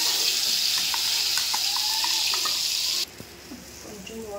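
Water streams steadily into a mixer jar holding fried onion and cashew for a curry, then stops abruptly, leaving faint kitchen clinks behind.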